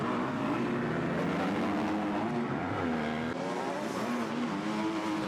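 Motocross bikes in an EMX250 race at the MXGP of Italy, including both Cat Motor Bauer-Schmidt machines, pass close by with a steady, loud, droning engine roar and shifting pitch and no let-up.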